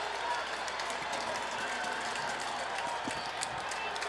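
A stadium crowd at a college football overtime between Eastern Kentucky and Bowling Green roars and applauds in a steady, dense wash of noise, with no single voice standing out.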